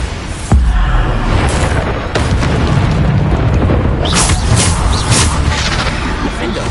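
Repeated Bombarda spell blasts in the video game Hogwarts Legacy: a sharp boom followed by a dense, continuous wash of loud explosive noise with further hits, spell-casting shouts mixed in.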